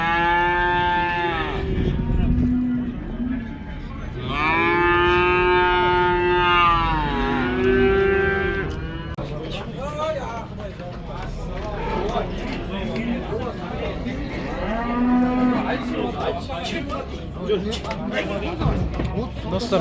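A cow at a busy cattle market in Kyzylorda gives several long, loud, drawn-out moos, close by, amid crowd chatter and people talking.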